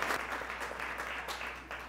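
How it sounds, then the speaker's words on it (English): A fundraising event audience gives soft, continuous applause for a cancer care team, heard at a distance and fairly faint, with no talk over it. "a big round of applause again for that cancer team there"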